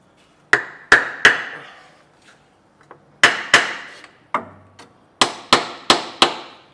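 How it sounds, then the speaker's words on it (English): Sharp hammer taps ring out in quick groups of three or four, close and crisp, with short pauses between the sets, seating a part while installing a part-time 4WD kit on a Toyota 80/100 Series. "Gentle tap with a hammer just to make sure that it's seating all of the way around."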